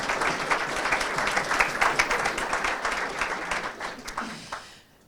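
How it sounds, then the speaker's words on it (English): Applause from citizens' assembly members gathered in Glasgow, a dense burst of many hands clapping together that fades out toward the end. "give yourselves a round of applause for that"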